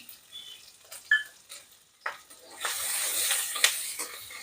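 Cumin, asafoetida, ginger, garlic and green chillies sautéing in a pan, starting with quiet scattered clinks and taps that give way to a rising steady sizzle in the second half.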